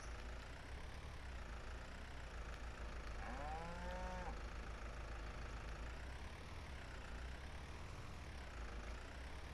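Cows in the farming game Farming Simulator 19, one clear drawn-out moo in the middle over a steady drone of an idling farm vehicle engine.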